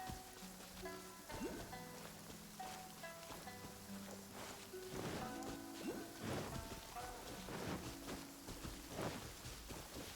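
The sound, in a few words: downpour rain in Genshin Impact video game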